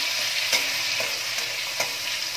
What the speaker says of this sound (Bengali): হালকা করে একটু আদার কাঁচা লঙ্কাটা একটু ভেজে নিচ্ছি।